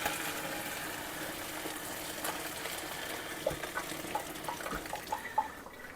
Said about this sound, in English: So I'm going to strain it into this bowl,